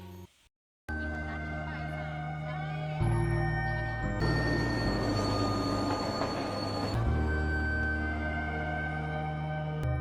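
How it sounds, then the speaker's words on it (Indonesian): A train arrives at a station in a film scene, with a rising rumble of rolling wheels and a sustained tonal hum, moderately loud and with no talk over it. "Kereta datang"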